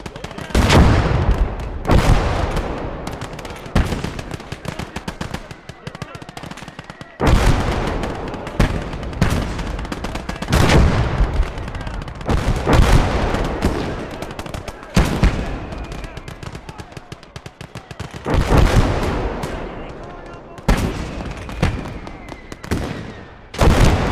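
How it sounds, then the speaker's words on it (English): Bazooka blasts and gunfire in the World War II game Gates of Hell, airborne mission in fog: loud repeated explosions and bursts of rifle and machine-gun fire, dense and close, with short pauses between volleys. "So one more time bazooka comes into play, it is our last hope."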